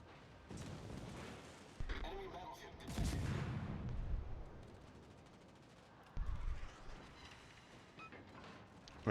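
Heavy naval guns boom from warships in the game World of Warships, with deep blasts landing near 2, 3 and 6 seconds over a constant engine and ocean rumble, while a voice talks throughout.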